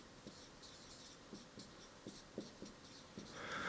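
Writing on a board during a maths lecture on zeta functions and Diophantine geometry, heard as faint, scattered taps and short scratchy strokes at an irregular pace in a quiet room, with no talking.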